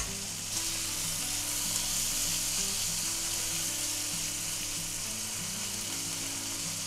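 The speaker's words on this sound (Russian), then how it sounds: "Обжариваем буквально несколько секунд и добавляем морской коктейль." Seafood mix frying in olive oil with garlic and ginger in a pan, a loud, steady sizzle with crackling that runs unbroken throughout, with no voices.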